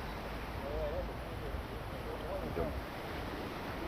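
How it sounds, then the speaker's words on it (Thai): Strong surf breaks at the shore of a beach in Krabi, a broad, steady wash of waves and wind rumble running throughout, with faint voices of people chatting in the background. "เสียงคลื่นจัดจัดนะครับ"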